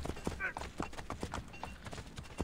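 Hoofbeats clatter in an even trot in Assassin's Creed: Brotherhood, with a short neigh-like cry near the start, all at moderate level over background game sound.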